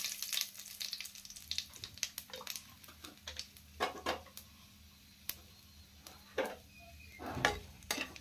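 Cumin seeds, a bay leaf and two dried chillies sizzle quietly in hot oil in a home kitchen pan, a soft steady crackle broken by sharp pops and light clinks of a utensil.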